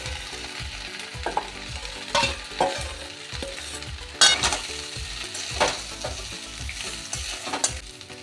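Cauliflower and a fish head sizzle in oil in a pan for a Bengali ghonto, a constant frying hiss broken by repeated scraping stirs and a few sharp clatters, close and without any voices.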